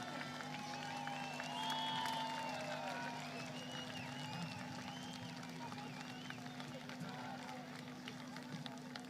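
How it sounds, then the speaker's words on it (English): A large outdoor protest crowd in the UK claps and cheers for fighters in Iran, a continuous wash of applause mixed with shouting voices, whistles and a steady hum, all at an even level throughout. "Let me see a round of applause."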